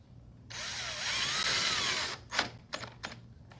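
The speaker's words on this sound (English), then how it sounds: "we're going to take our screw, put in there, and then we are going to go ahead and drill it in" A power drill drives a screw into a fiberglass boat hull while mounting a transducer, one steady whining run of about a second and a half, then several short bursts as it snugs down. Close and loud, with no talking.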